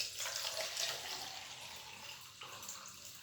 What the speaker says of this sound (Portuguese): Vamos acrescentar o restante do solvente